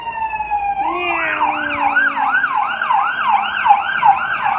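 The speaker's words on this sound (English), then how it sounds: "is it an ambulance?" An ambulance siren starts with a steady tone, then switches to a rapid rising-and-falling wail, loud and close as it goes by.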